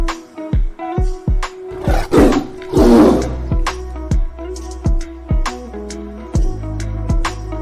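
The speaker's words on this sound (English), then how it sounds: "Wow, tiger." A tiger roar sound effect, loud and close, heard as a series of repeated growling roars in an uneven rhythm, alone without talk.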